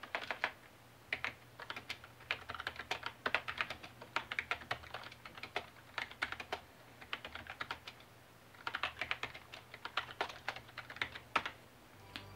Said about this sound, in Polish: dam wam po prostu posłuchać, jak klawiatura brzmi.